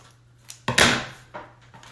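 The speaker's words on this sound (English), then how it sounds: "these are crappy scissors" Cheap scissors snip through wire-edged ribbon for a candy ribbon wreath: one sharp, close cut with a brief crunch, then a couple of fainter snips and rustles with no talking.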